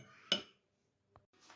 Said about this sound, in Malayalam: ഗ്യാസിൽ പാത്രം വയ്ക്കാം